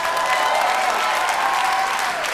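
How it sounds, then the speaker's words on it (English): A comedy club audience at a stand-up show bursts into applause, a dense, continuous roar of clapping with crowd noise, sustained and fairly loud throughout. "I say by applause and they go, woo!"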